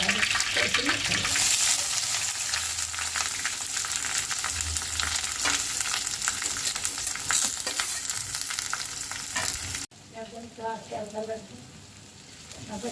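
Curry leaves, onions, green chilies and mettalu fry in a pan for an Andhra-style curry, making a loud, dense sizzle with stirring scrapes for about ten seconds before an abrupt cut to quieter, sparse kitchen sounds.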